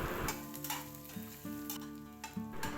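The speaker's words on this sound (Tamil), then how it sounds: "இது எல்லாமே நல்லா கோல்டன் ப்ரௌன் கலரில் வர அளவுக்கு சாத்தே பண்ணிக்கிறேன்" Onions and green chillies sauté in hot oil, a steady close sizzle broken by a few scraping stirs of a spatula against the pan.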